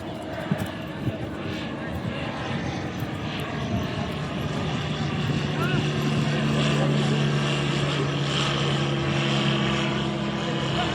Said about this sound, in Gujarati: જો અહીંયા વિમાન તમને દેખાતું છે